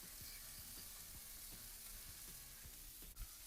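Ground beef fries on a Blackstone griddle with a soft, continuous sizzle and faint scraping ticks, heard close and alone.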